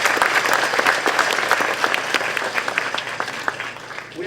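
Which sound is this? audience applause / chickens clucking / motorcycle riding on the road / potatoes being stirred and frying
audience applause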